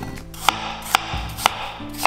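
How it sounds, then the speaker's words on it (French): Four sharp knife chops through apples on a cutting board, evenly spaced about half a second apart, close and crisp with no talking. "Je coupe les pommes en grosses tranches."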